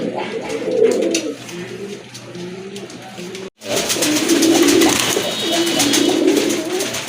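A pair of chila pigeons, brown with tiger-type markings, coo steadily and loudly up close, their low rolling calls repeating through the whole stretch with a brief dropout midway.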